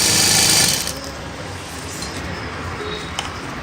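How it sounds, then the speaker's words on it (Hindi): A sewing machine stitches saree fabric, whirring loudly at first, then settling into a steadier, softer running hum with faint clicks, close by and without talk. "खींच के क्लियर करके आप सिलाई मारिए"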